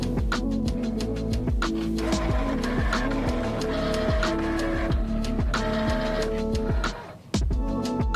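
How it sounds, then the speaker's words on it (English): A Momento cutting machine slices heat transfer vinyl, its motors whirring and stepping in a steady, busy, mechanical rhythm with repeated tonal whines and clicks, continuous and close, briefly pausing near the end before resuming. "Now I'm going to start my design from my machine, so I'm going to select Start Cutting."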